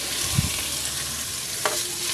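A small amount of cooking oil heating in a pan over medium heat, a steady close hiss of sizzling with a couple of light taps, no talking.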